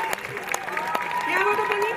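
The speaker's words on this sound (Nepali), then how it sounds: "एकचोटि बेसी ताली बजाइदिनुहोस् त अलि जोरले" An audience at an Indra Jatra cultural programme in Dallas, Texas claps loudly, a dense, continuous patter of applause close by, with a voice speaking over it.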